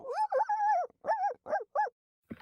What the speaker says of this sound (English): Your dog's howling, mister.